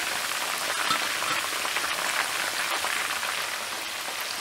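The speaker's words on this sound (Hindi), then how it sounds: "चिकन फ्राई करते वक्त हमने" Chicken pieces frying in hot oil with green chillies, a steady, dense sizzle and crackle running evenly throughout at close range, with no talking.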